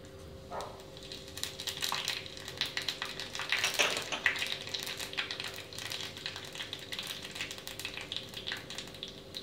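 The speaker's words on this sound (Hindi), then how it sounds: "हम ऐसे जगह में थोड़ा सा ऑयल लेंगे और उसमें डालेंगे 5 फुटर।" Panch phoron spices fry in hot oil for a brinjal and cauliflower curry, giving a steady close sizzle with crackling pops and a brief louder burst of spattering midway, no voices.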